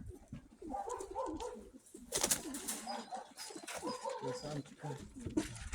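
A brown Grechani (Krymaky) pigeon coos softly and steadily while someone talks almost continuously nearby, the bird's low calls partly buried under his voice in a quiet loft.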